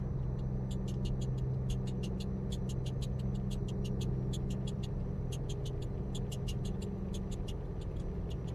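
Water spray patters steadily against the truck window in American Truck Simulator, a regular rapid ticking over the constant low rumble of the truck engine, with no talk.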